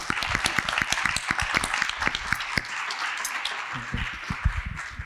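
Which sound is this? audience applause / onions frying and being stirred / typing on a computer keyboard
audience applause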